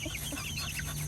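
Chickens settling in their coop at night on their first evening inside, giving soft, fairly faint clucks and murmurs in a brief close burst without talk.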